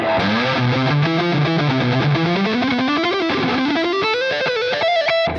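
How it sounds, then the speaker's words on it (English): Heavily distorted electric guitar through a high-gain Supro amplifier channel plays a continuous, dense riff with sliding notes, loud and saturated throughout, no voices. "So much distortion on that second channel."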